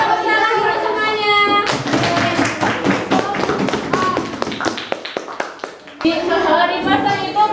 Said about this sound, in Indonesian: Semuanya tepuk tangan dulu semuanya